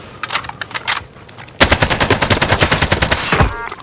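Call of Duty gunfire on Rebirth Island, a few scattered shots followed by a loud, close burst of rapid automatic fire lasting about two seconds, with a thin high whine running over it.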